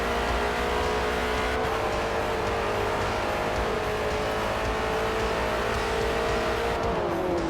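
Race car engine in Forza Motorsport, a Ford versus Ferrari endurance race, droning loud and steady with sustained harmonic whine as it accelerates, pitch shifting slightly near the end.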